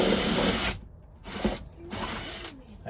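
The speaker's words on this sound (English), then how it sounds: "We're gonna drill the first hole." A power drill with a 1/4 inch bit bores through an RV roof while a Coleman pop-up air conditioner roof brace is installed, running in three close, loud bursts with brief pauses between them.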